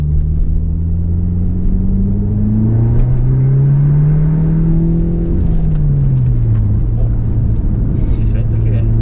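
Audi TT 8J engine pulling steadily under acceleration during a test drive, a continuous in-cabin drone rising smoothly in pitch, dipping briefly and then settling, with a motorcycle following behind.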